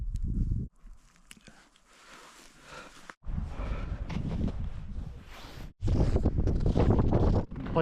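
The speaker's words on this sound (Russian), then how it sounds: "поднялся ветер" Gusty wind blowing through a winter valley in the Western Tatra mountains, buffeting the microphone in loud bursts with brief lulls between them, with faint crunching footsteps on snow underneath.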